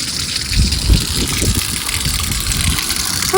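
Water pours straight down onto potted plants as a steady, close rushing gush that holds its level from start to finish, with no voices over it.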